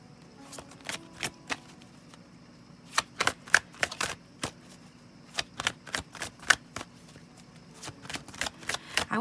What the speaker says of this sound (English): I was just going to shuffle and then cut